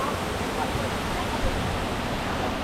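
A popular waterfall in Tetebatu, Lombok roars as a steady, dense wash of white noise, loud and close, filling the whole stretch without a break.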